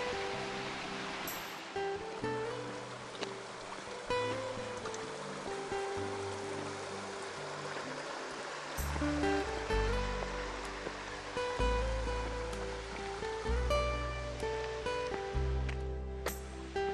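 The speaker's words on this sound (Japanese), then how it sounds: "その爽やかな清流音に後押しされて" A clear mountain stream flows steadily and softly, a continuous gentle rush with a faint musical tone drifting underneath.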